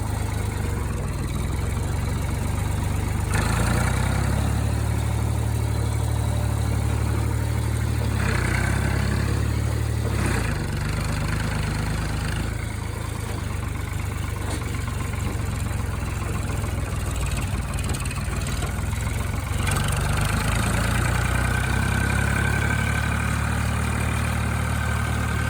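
A 1974 Ford 3000 tractor diesel engine runs steadily with a loud, low, continuous rumble and a throbbing idle-like drone, close by, with no talking.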